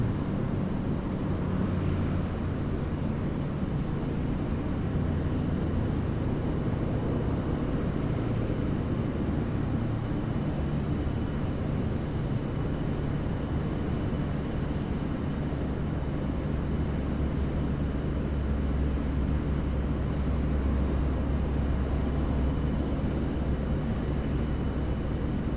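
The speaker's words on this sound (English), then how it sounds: "just coming in on runway right is our New Zealand 101 friends coming in from Auckland" Air New Zealand Airbus A321neo arriving from Auckland lands on a Sydney Airport runway, a loud continuous broadband jet roar with a low rumble that holds steady throughout, with no voices.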